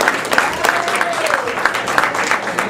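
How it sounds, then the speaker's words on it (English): A coffeehouse crowd applauds a pastor after his music set, a steady wash of many hands clapping at medium distance, with a faint whistle rising and falling partway through. "Another round of applause for him."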